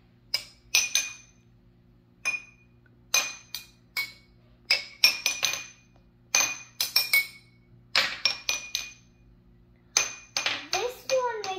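Water-filled glasses struck one at a time as a school water xylophone, bright ringing clinks in irregular clusters, close and clear, with a voice briefly at the end.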